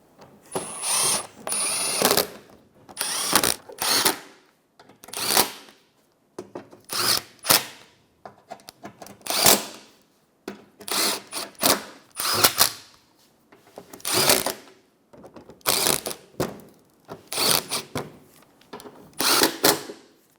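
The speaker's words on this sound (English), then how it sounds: "Then go around and tighten up all your bolts." A power tool whirs in short repeated bursts, close and loud, while tightening the bolts on the front bumper cover of a 2014-2019 Toyota Highlander.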